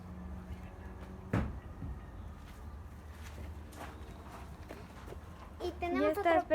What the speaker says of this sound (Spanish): Sí, es muy bonito el caballo.